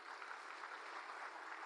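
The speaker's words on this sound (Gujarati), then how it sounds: "માનનીય આપણા રાષ્ટ્રીય કન્વીનર અરવિંદ કેજરીવાલજી માટે એકવાર તાળીઓ થઈ જાય" Audience applause for Arvind Kejriwal at a political gathering: a dense, continuous patter of many hands clapping, heard faintly and evenly from a distance with no voices above it.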